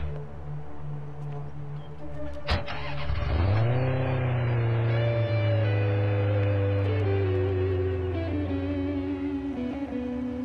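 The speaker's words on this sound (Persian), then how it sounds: "تو این ماشین را گرفته از اینجا دور شو." A car engine starts up and revs, then holds a steady, loud drone as the vehicle pulls away from a company parking lot, with a sharp click near the start and no talk.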